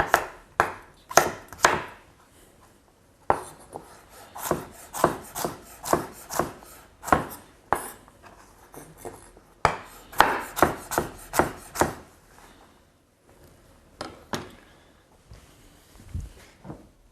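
A knife chopping carrot into small cubes on a wooden board, quick close bursts of crisp taps in runs of several strokes, with short pauses between runs and no talking.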